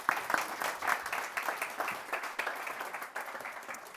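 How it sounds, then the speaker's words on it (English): Audience applause at a conference workshop session, a steady wash of many hands clapping at moderate volume, continuing evenly without voices over it. "But round of applause for Jonny, please."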